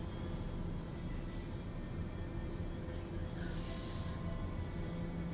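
An aircraft drones steadily in flight in Microsoft Flight Simulator 2020 on a short hop from Louisville to Indianapolis, a constant low engine hum with no talking.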